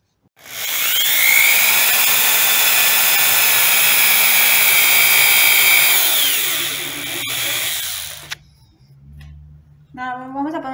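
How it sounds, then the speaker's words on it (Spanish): A power drill bores holes into a wooden board, its steady high whine running loud and continuous for about eight seconds before cutting off, followed by brief handling noise. "ahora sí con el taladro vamos a perforarle"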